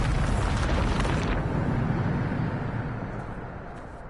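Bombarda blast spell in a Hogwarts video game, a loud broad rumbling explosion that roars from the start and slowly decays into a lingering low roar, with no voices over it.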